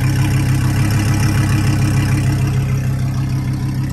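Audi R8 engine fitted with a stock Audi race header, a loud, close, steady idle with a deep rumbling tone holding evenly throughout.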